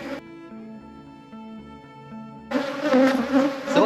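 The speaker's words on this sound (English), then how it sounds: "So what we have here is a beehive we brought in from a customer's house." Honey bees buzz inside an opened beehive taken from a house. A steady tonal hum starts low, then swells into a louder, denser swarm buzz near the end.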